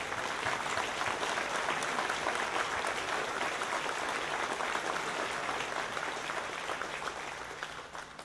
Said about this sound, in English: Please stand and please applaud our employers.